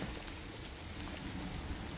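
Steady soft rain patters down, with a continuous hiss and faint scattered drops on surfaces, quiet and even.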